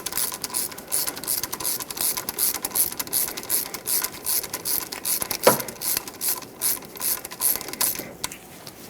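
Ratchet tightening a 17 mm brake caliper slider pin bolt on a 1995–2004 Toyota Tacoma 2WD, a close, steady series of rapid clicking strokes with a brief metallic clank midway.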